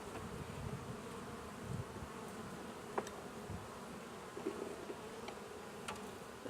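Honey bees crawl and buzz on a frame pulled from a double-deep hive being broken down for winter. The buzzing is a steady, dense hum with faint clicks and bumps, and no voices.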